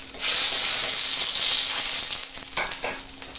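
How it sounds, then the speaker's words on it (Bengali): Dried red chillies and bay leaves hit hot oil that already held fried food, giving a loud, steady, close sizzle that runs through the whole stretch with no talk. "এবার ওই একই তেলে আমি 3টি শুকনো লঙ্কা দিয়ে দিলাম আর তেজপাতা দিয়ে দিলাম।"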